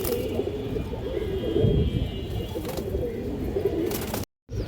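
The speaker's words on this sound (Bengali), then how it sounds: "দর্শক এই যে এখানে 2টা কবুতর আছে" Pigeons at a fancy pigeon loft, low throaty cooing repeating close by with a steady murmur, ending after a short silent break.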